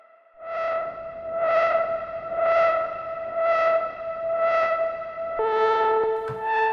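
A modular synthesizer plays a repeating sustained tone that swells in five even pulses, with a filtered noise source mixed in and no delay. A sharper tone change comes near the end, with no voices.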